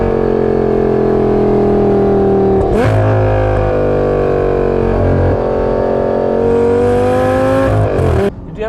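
A Lamborghini Gallardo LP550-2 engine revs loud and close from inside the car, its pitch climbing and then dropping sharply at gear changes with a brief blip around the shifts.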